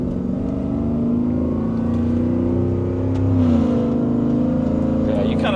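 A Whipple-supercharged Coyote engine in a Ford F-150 King Ranch pickup holds a steady, droning note with a high whine, and its pitch drops partway through as people talk inside the cab.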